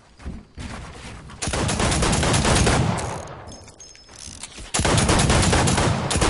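Heavy gunfire in a wild west video game, with a sniper rifle shot among it: loud, dense bursts that cut out briefly, then return at full strength near the end.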